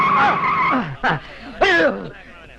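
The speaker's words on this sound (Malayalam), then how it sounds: "break break ചവിട്ടോ" A vehicle brakes hard in a comedy film scene, tires squealing in loud, wavering screeches that rise and fall in two or three bursts, close by and mixed with voices.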